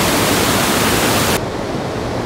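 A rushing river near the Geirangerfjord in Norway roars as loud, dense broadband water noise, steady and close, with the bright upper hiss cutting off partway through while the low rush continues.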